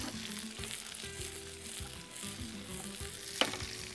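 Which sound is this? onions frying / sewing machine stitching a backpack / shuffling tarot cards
onions frying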